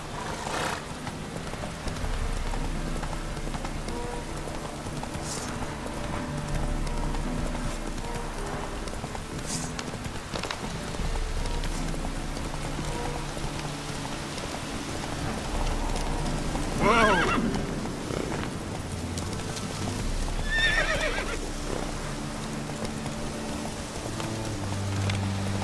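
Geralt's horse Roach galloping through rain in The Witcher 3, with soft rhythmic hoofbeats under a steady rain hiss and a couple of loud whinnies partway through.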